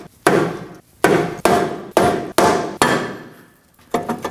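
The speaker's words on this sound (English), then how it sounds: "Using a rubber mallet, I'm gonna go ahead and hit around this area to get it off." A rubber mallet strikes a brake rotor on a 2017-2024 Nissan Armada to loosen it. Six loud, close blows land at a steady pace, each with a short ringing decay, followed by lighter taps.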